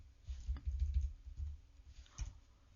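Keys tapped on a computer keyboard while writing in a word processor, a run of soft close clicks with brief pauses, quiet and without voices.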